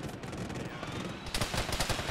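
Gunfire in a video game, quiet distant rattle at first, then a louder run of rapid automatic shots in the final second.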